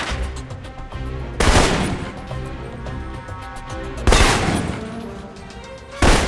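Assault rifle gunfire in the video game Alpha Protocol: loud bursts of rapid automatic shots in several volleys over a musical game score, each burst ending with a crashing impact.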